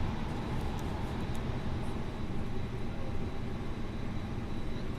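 A steady, loud mechanical drone from the auxiliary power unit of an Airbus A330-900 parked on the ground in a flight simulator, continuous and unchanging throughout with no speech.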